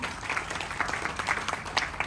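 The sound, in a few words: applause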